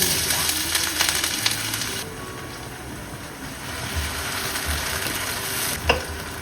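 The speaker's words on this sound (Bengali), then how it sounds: "এখন এতে দিয়ে দিব আমি বেশি করে পেঁয়াজ কুচি।" Generous handful of chopped onions frying in hot oil: a loud, steady broadband sizzle with stirring scrapes throughout and a sharp clatter of a utensil near the end, no voices.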